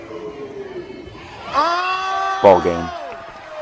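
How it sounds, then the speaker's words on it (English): Fans and a team bench at a volleyball match erupt in loud, brief shouts and cheers near at hand, with someone speaking just before the outburst. "The crowd is on their feet, the fans, the bench, everyone's up cheering."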